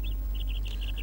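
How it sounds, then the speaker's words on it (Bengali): Birds call in a quick run of short, high chirps repeated in a loose rhythm over a low steady hum, fairly close and with no talking. "পাখির ডাক"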